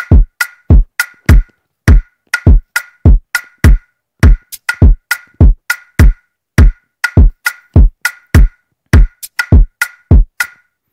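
A punchy electronic kick drum programmed in FL Studio Mobile thumps in a steady Afrobeat pattern alongside the wood and shaker clicks, loud and up front with no voices.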